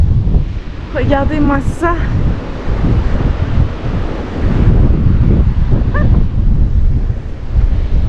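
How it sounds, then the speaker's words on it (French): Strong wind buffets the microphone in a constant roar throughout, with a brief voice speaking early on and a faint animal-like call later. "Il y a énormément de vent"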